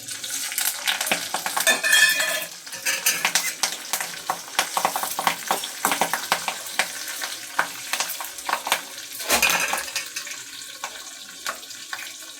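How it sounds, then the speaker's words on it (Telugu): Dried red chillies and curry leaves frying in oil for gongura chutney, crackling sizzle with repeated close spatula scrapes and stirs in an uneven rhythm. "తర్వాత ఈ ఎండుమిరపకాయలు కరివేపాకు వేసుకోవాలి"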